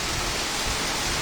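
Heavy rain with wind lashes down outside a balcony, a dense, unbroken roaring hiss close by, with no voices.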